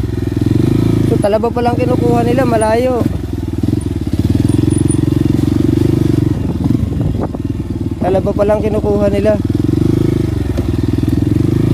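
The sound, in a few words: motorcycle riding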